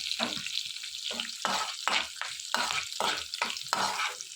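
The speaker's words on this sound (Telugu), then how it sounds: "తాలింపు కోసం ప్యాన్ పెట్టుకుని ప్యాన్లో ఆయిల్ పోసుకుని ఆయిల్ బాగా వేడెక్కిన తర్వాత జీలకర్ర, ఎండుమిర్చి, ఎల్లుల్లిపాయలు, కరివేపాకు వేసుకుని ఇవన్నీ కూడా బాగా ఫ్రై చేసుకోవాలి" Cumin, dried red chillies, garlic and curry leaves frying in hot oil in a pan for a coconut chutney tempering, with a steady close sizzle and rhythmic scraping stirs about every half second.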